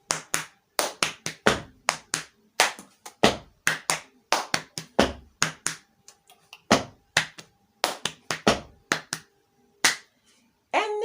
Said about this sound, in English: Like you're clapping to the semi beat, you do 1, 2, 3, 4.